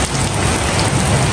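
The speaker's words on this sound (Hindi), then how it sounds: "सब बारिश शुरू है जी।" Steady heavy rain pours down close by, a dense continuous hiss of drops hitting surfaces with no pauses.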